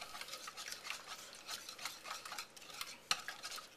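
Spoon stirring red curry paste with lime zest and juice in a bowl, repeated soft scraping strokes up close with a sharp clink near the end, no talk.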